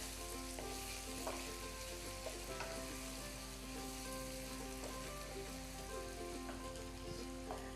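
Murgh cholay being stirred in a pot, an even frying sizzle under faint spoon clinks and scrapes, with a steady low hum beneath.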